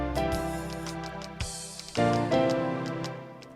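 Three-note chords struck on a keyboard, a sustained chord fading, then a sharp attack and two more chords that ring out and decay, close and moderately loud with no talking.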